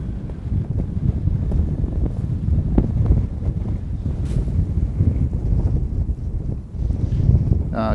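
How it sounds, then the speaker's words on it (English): Strong wind blowing outdoors on an exposed mound beside an airport runway, heavy gusting buffeting against the microphone in a constant low roar with brief dips and knocks, no speech. "That's how windy it is."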